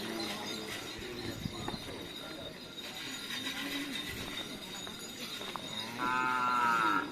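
Cattle, racing bulls kept for karapan sapi in Sumenep, moo loudly and repeatedly at close range, with long drawn-out calls over a steady background rumble and no talking.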